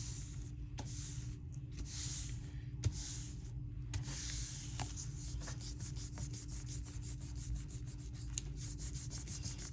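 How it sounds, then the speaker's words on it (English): A hand rubs a leaf pressed onto paint on a Gelli plate, with repeated soft swishing strokes in a steady rhythm, close and quiet, with a few small taps mixed in. "So we're rubbing around the edges of it, on top of it, around the edges of the"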